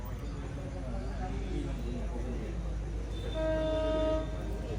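The Tutari Express pulls into Kudal railway station with a steady low rumble, and a sustained horn blast sounds near the end over the running train.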